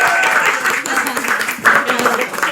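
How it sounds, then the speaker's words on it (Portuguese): Applause from a gathering at a religious meeting celebrating a surprise party, a brief dense patter of clapping with voices and cheering mixed in underneath. "Palmas para isso!"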